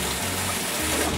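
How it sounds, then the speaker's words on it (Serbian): Hot tap water runs steadily while barley is being washed for keške, a traditional Bosnian dish, in a home kitchen. It is a short, continuous gushing stream heard on its own. "Sad ćemo dobro ovo geršlo da peremo vrućom vodom"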